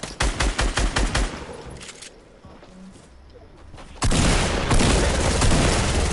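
Combat SMG gunfire in a video game, a rapid run of loud bursts up front, then a quieter lull before another dense, sustained stretch of firing and noisy clatter takes over.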